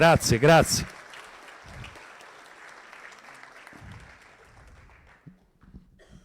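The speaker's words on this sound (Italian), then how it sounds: "un applauso, grazie" A crowd applauds at a Rifondazione Comunista political gathering as a speaker is welcomed. A voice talks loudly at the start, then steady, moderately loud clapping fills the room for several seconds before fading, with a few brief voices near the end.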